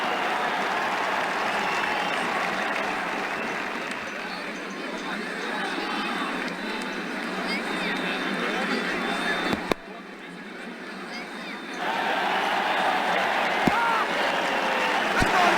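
Cricket crowd at an England versus South Africa Test match in a video game, applauding and cheering a shot, a dense continuous roar of clapping that briefly dips before swelling again.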